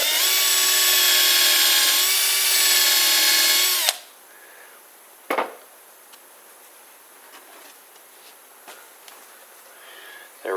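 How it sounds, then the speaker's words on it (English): A power drill pre-drills a hole in hardwood for a drawer front install, running loud and steady for about four seconds before stopping, followed by quieter handling noises and a brief knock. "You have to pre-drill in hardwood."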